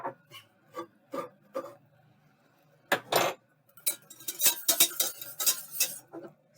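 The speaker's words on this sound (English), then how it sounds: "Whisk pretty vigorously." A whisk scrapes vigorously through creme brulee custard in a metal pan, at first in a few spaced strokes, then in fast, loud, rasping scrapes close by, with no voices.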